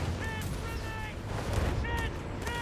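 Machine gun fire and battle noise from the Company of Heroes 3 strategy game, a dense continuous wash of gunfire and rumbling explosions with repeated tonal unit-alert sounds on top, loud throughout.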